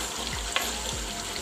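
Chopped tomatoes hit a pan of Lahori street-style desi chicken karahi, giving a loud, steady sizzle with a couple of soft stirring scrapes.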